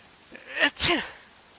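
A single sharp sneeze, a short breathy intake followed by a burst, close and fairly loud, with quiet room noise around it.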